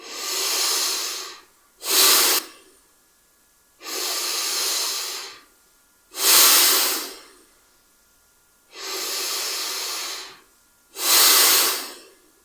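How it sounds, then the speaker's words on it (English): Slow pranayama breathing in bellows style, six long breaths alternating between softer and sharper airy rushes close to the ear, each lasting a second or more with short pauses between. "We're going to do this nice and slowly. So breathing in."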